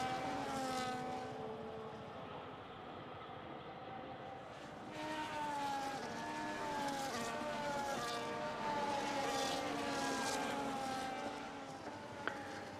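F1 race cars rolling through the formation lap at Singapore in F1 25, engines droning and whining as pitch rises and falls with gear changes, a steady moderately distant drone with no talk.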